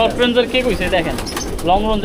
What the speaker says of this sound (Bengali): এটাও একটা বাবু কবুতর